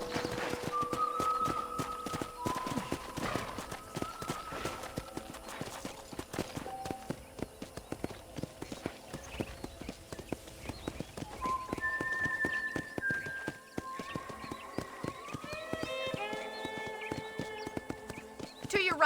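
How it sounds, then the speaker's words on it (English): Horse hooves clip-clop steadily during a ride in the video game Red Dead Redemption, a continuous rhythmic trot under game music and character dialogue, with an occasional snort or whinny. "let's see if you can still ride a horse"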